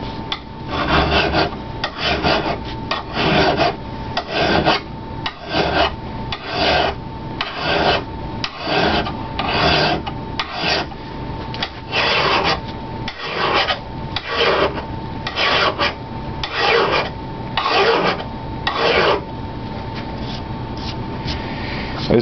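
A hand file rasps along an axe edge in about fifteen regular strokes, each a short gritty scrape followed by a brief pause, loud and close with no speech.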